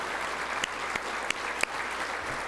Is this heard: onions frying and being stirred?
no